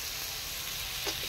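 A spice mixture for paratha filling sizzles and fries in a pan, a steady hiss with a brief scrape or stir near the end, fairly quiet and without talk.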